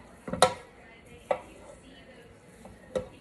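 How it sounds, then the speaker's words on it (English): Pork sausage being chopped into fine crumbles with a Pampered Chef Mix and Chop, with a few sharp scraping knocks against a pan, spaced unevenly. "the mix and chop did a beautiful job chopping this up nice and fine"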